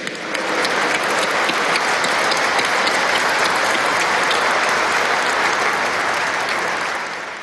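A large audience at a Teachers' Day address in Venezuela breaks into loud, sustained applause. Dense clapping holds steady for several seconds and then starts to fade, with no speech on top.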